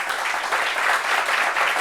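Guests applauding at a gathering, a brief burst of steady, fairly loud clapping with no talk over it.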